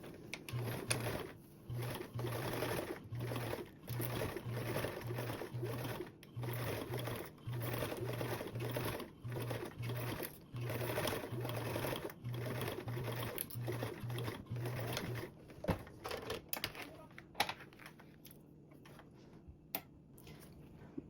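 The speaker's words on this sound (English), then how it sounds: "And then sew the two long raw edges together." A sewing machine stitches the long raw edges of a sling strap together, its needle chattering in long steady runs broken by short pauses, quiet and close, with the rhythm growing choppier toward the end.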